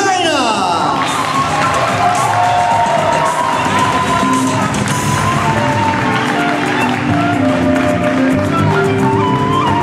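A large crowd at a Best Model of the World pageant cheers and applauds loudly and continuously, with whoops and shouts rising over a dense roar of clapping.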